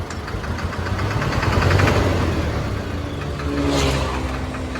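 A heavy diesel dump truck engine starts and rumbles and knocks close by, rising twice in revs before settling back to a rough idle.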